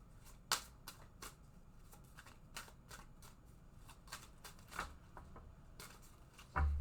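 Tarot cards are shuffled close up in a quiet room, a run of soft, irregular riffling taps and slaps with a louder thump near the end and no talking.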